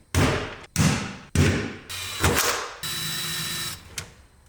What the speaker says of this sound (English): I'm gonna drill through and then I can mark the chassis.